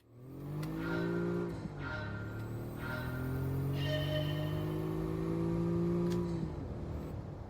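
A turbocharged car in Gran Turismo 7 accelerates hard through several gear changes, the engine note climbing steadily, dropping at each shift and climbing again, loud and close with no talking.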